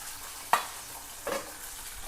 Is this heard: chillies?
yes